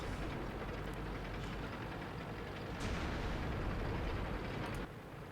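Heavy 170mm tank gun in a tank video game firing amid a dense, rumbling battlefield din, with sharp broadband blasts near 3 seconds and again near 5, all loud and close with no voices.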